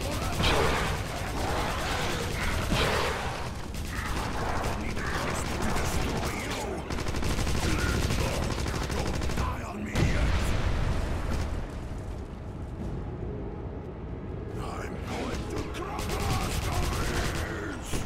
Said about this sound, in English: Kill him with this machine gun, it seems right.